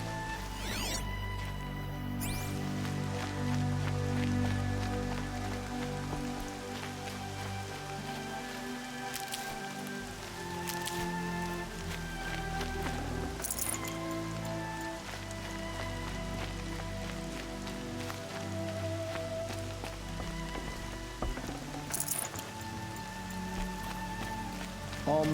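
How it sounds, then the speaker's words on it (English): Soft, steady rain patters continuously on a surface in the video game Horizon Zero Dawn, quiet and even throughout, with no voices. "Rain's not so bad."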